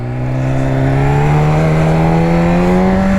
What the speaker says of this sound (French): si je tourne un tout petit peu la poignée, la moto, elle tourne, elle avance un tout petit peu